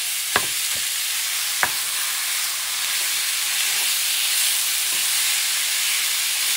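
Ground lamb frying in a pan, with a loud, steady hissing sizzle throughout and a couple of sharp spoon knocks near the start, close and with no speech.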